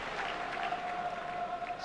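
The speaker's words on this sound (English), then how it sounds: "You can tell that by the cry from the crowd." A football stadium crowd at Liverpool's ground roars as a Liverpool substitute warms up, a broad sustained wash of cheering and applause with a commentator talking over it.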